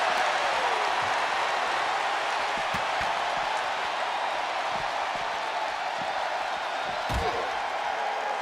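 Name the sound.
wrestling crowd roaring during match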